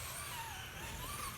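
A Traxxas Slash RC short course truck with a low center of gravity chassis runs across carpet, its electric motor giving a steady, continuous whine with a constant rumble underneath, fairly loud and close throughout.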